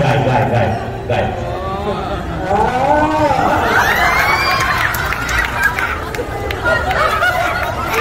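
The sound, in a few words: people imitating a cow mooing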